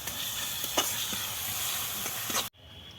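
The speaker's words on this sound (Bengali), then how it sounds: "এরপরে মশলাটাকে আমি আবার ভাজবো" Spice paste of ground cumin, cumin powder, turmeric and salt sizzling in hot oil in a pan, a steady close hiss with a few light scrapes, cutting off abruptly near the end.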